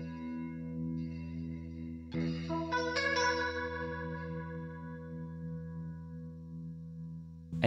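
Electric guitar played through a rotary speaker effect, sustained chords swirling with a warbling chorus-like pulse as the rotor speed shifts, heard alone without talk.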